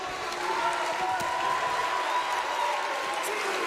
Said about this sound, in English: Studio crowd here on hand, and they are getting one hell of a main event.